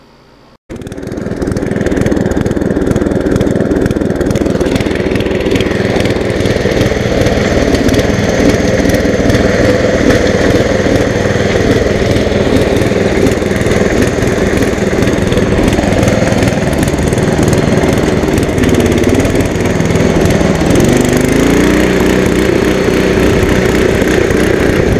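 Craftsman dually riding lawn mower engine running steadily and loudly up close for the whole stretch while pulling a trailer loaded with dirt, with a slight change in pitch near the end.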